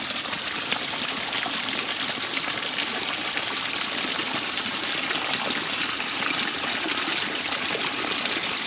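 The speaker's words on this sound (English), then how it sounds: "you can see that there's quite a volume of water coming in this pipe." Steady, loud rush of drainage water pouring from a pipe into a dam, a continuous splashing flow with no pauses and no voices.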